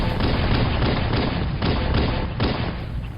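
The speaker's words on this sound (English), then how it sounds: "the pistol, known in full as the M6D Personal Defense Weapon System, packs quite a punch." Pistol fire from Halo: Combat Evolved: the M6D semi-automatic handgun lets off several heavy, booming shots in quick succession, loud and dense with no pauses of silence.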